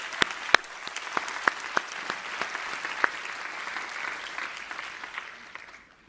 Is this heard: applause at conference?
yes